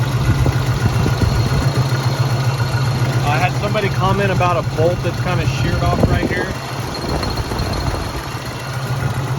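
A 1966 Ford Mustang's 289 V8 idles with a steady low rumble and exhaust burble throughout, no lifter noise, while someone talks over it for several seconds.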